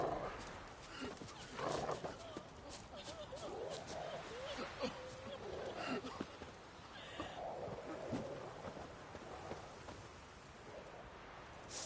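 Roach, a horse in The Witcher 3, gallops with steady hoofbeats and neighs over a continuous outdoor game ambience, with voices speaking at times.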